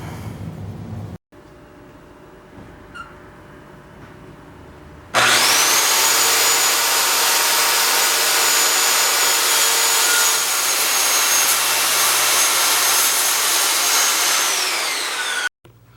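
A power saw cuts wooden braces to 18-inch lengths for joist supports: after a short quiet stretch a loud, steady whining cut starts and runs for about ten seconds before stopping.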